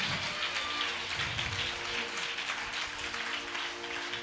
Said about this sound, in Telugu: మంచి చప్పట్లు కొట్టండి